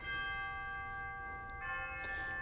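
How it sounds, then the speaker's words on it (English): A sustained bell-like chime tone from the digital chimes of a Ruffatti pipe organ, ringing steadily with rich overtones, with a brief soft rustle partway through. "Digital chimes that sound very traditional."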